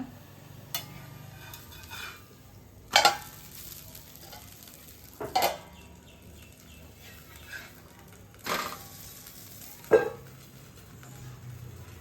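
Millet adai cooking on a covered pan gives a low, steady frying sizzle with several sharp clanks of the lid or a spatula against the pan spaced through it, quiet and close.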